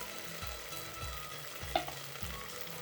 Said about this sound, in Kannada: ಈಗ ಅವರೆಕಾಳು ಹಾಕ್ಬಿಡೋಣ.